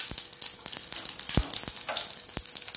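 Cumin seeds crackle in hot oil for mango methamba, a close, bright sizzling hiss broken by sharp individual pops and spits, alone without voices.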